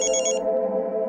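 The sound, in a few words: telephone ringing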